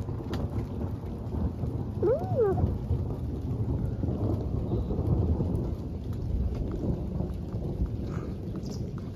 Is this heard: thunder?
yes